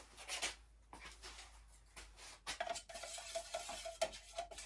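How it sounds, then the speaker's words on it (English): Polyurethane finish being stirred in its can, with repeated scraping, swishing strokes, close and fairly quiet, steady through the clip with no talking. "Stirred, not shaken."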